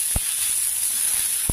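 Tender tamarind leaves fry in hot tempering oil with a continuous loud hissing sizzle. Two crisp pops stand out, one near the start and one near the end.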